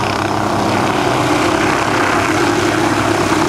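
A Hughes 500 helicopter's rotor and engine roar in a steady, loud, unbroken whir at close range.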